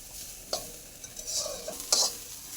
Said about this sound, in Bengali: এই ফোড়নগুলো দিয়ে ডালটা সম্বার দেবো।